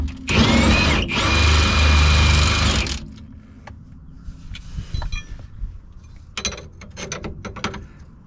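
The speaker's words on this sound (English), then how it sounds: "I'm actually going to use my impact to do this" An impact wrench threads a splined bolt out of a Honda Accord rear strut in a loud, whirring, rattling burst of about three seconds. Quieter clinks and handling noises follow.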